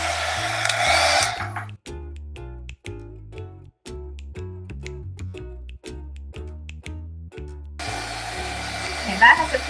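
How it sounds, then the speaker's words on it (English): A heat gun blows hot air over Mod Podge on a nativity-themed Christmas centerpiece, a loud steady whir at the start and end, with a stretch of choppy, stop-start bursts in between. "Gonna hit it with a heat gun again."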